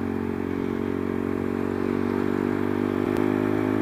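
A modified 2005 Suzuki Satria FU motorcycle bored to 230cc drones loudly with a steady engine hum on the road, holding a constant pitch with a brief scrape near the end and no voices.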